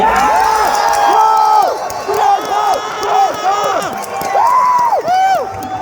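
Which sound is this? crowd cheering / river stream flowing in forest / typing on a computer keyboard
crowd cheering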